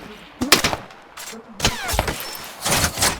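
Several sharp bursts of gunfire crack in quick succession during a Ring of Elysium video game match, loud and close, with short pauses between volleys.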